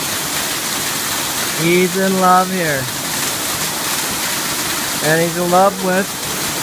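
Water rushing steadily over a waterfall at a retreat in Hawaii, a loud broadband roar that never lets up, with someone speaking over it in two short stretches.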